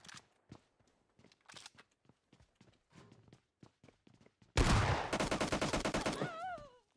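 Rapid shotgun blasts ring out in a video game, a dense burst of loud shots following scattered quieter footsteps and clicks.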